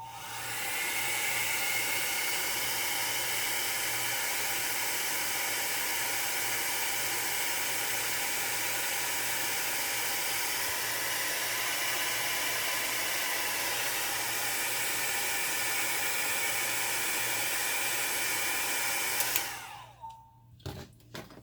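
A hair dryer blows on alcohol ink for nearly twenty seconds in a loud, steady whooshing hum close to the mic, then switches off, leaving a few faint handling sounds.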